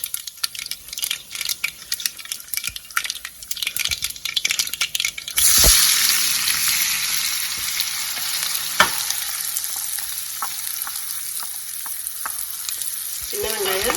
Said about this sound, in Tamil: சின்ன வெங்காயம் போட்டாச்சு.